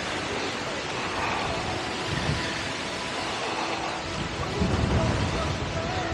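Strong wind buffets the microphone near a burial mound by the village of Mezek, close to Svilengrad, giving a steady, loud rumbling roar that runs unbroken throughout with no voices.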